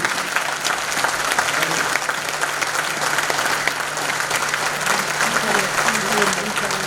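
An audience at the Concours Général 2021 awards ceremony applauds the standing students, their parents and headmaster, a full, continuous round of clapping with some voices mixed in.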